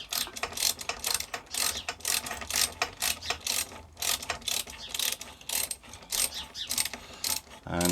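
Snap-on ratchet tightening exhaust valve bolts on a BMW GS 1250 motorcycle, giving a long run of quick, close mechanical clicking bursts in steady rhythm, with no talk.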